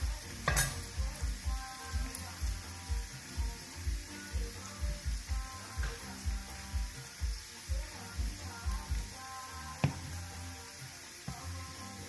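Garlic and onions frying in a pan while being stirred to caramelize, with a steady close sizzle broken by a regular rhythm of scraping stirs and the odd clink of a utensil.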